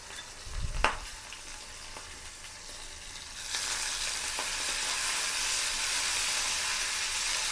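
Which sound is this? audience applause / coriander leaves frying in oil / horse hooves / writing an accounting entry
coriander leaves frying in oil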